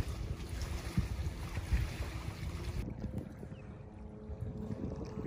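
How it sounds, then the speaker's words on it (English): A motorboat engine drones steadily in the distance across open water at Weedon Island Preserve, Florida, with wind buffeting the microphone throughout. "the sound of a motor of a boat right over there, blasting across"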